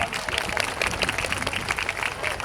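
Applause from an audience honouring a quiet Buddhist devotee, a dense, steady patter of many clapping hands that carries on evenly, with some speech-like murmur mixed into the crowd noise.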